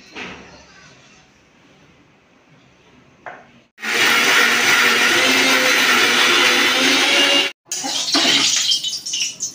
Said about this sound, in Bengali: এবার পাতাটাকে আমি মিক্সির মধ্যে ভরে নেব, নিয়ে সঙ্গে নেব রসুন কুচো আর নেব লঙ্কা